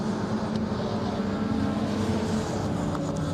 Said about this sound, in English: Wonderful sounding supercharged engine.